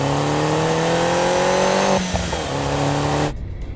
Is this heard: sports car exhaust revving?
yes